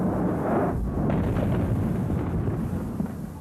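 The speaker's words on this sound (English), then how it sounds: "You could hear a rumble and an explosion" A deep, sustained explosive rumble from an airliner striking the World Trade Center South Tower, loud and roaring throughout with no speech.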